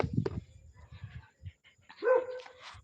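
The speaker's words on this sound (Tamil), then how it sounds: "சும்மா ஒரு நாய் போனால் கூட கொலைக்கதான் செய்வாங்க" A dog gives a few short barks and yips close by at night, with whimpering sounds, scattered brief bursts separated by quiet gaps.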